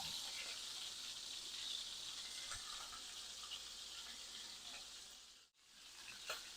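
Steak sizzling in a cast iron skillet with butter, rosemary and garlic, a steady bright hiss with small crackles throughout, briefly cutting out near the end before returning.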